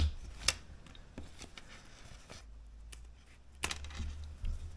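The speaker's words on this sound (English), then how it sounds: "So then you just have to trim off the extra ends." Scissors trimming the extra ends of a zipper while sewing produce a few sharp, close snips with light clicks and rustling between them, all fairly quiet and with no talking.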